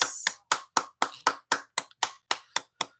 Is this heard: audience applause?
yes